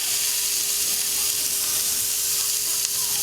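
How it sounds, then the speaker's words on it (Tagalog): Sliced pork fries in its own rendered fat, giving a steady, loud sizzle with a constant crackling hiss throughout, close up and without voices. "Bali, pamantikaon ko lang siya sa sariling mantika niya."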